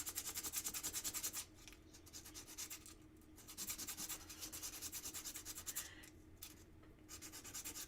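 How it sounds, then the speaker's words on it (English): Sandpaper rubbed back and forth in steady strokes, a faint close-up scratchy rasp with short pauses between passes, heard alone without talk. "And then we'll just pull out our sandpaper."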